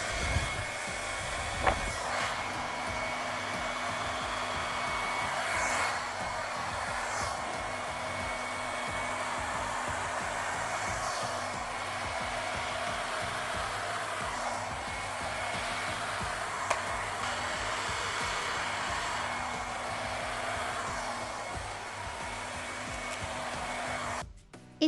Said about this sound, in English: A cool thing about this hair dryer